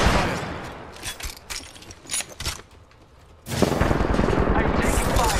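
Gunfire in Apex Legends on the Kings Canyon map, scattered bursts and single shots early on, then a loud sustained stretch of rapid firing, with some game voice audible.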